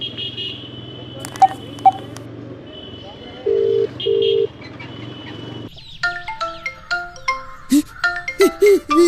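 A phone ringtone plays a run of short electronic melodic tones near the end, after a quieter stretch with a few beeps and background murmur.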